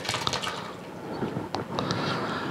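Whey pours and splashes steadily from ricotta curds through a strainer, a continuous wet trickling with a few brief drips.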